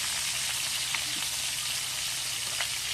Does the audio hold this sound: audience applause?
no